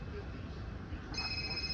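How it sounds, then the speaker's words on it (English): A telephone rings in the background, its steady electronic ringing tone starting partway through and continuing to the end, faint and distant beneath a low rumbling room noise. "I got a phone ringing in the background"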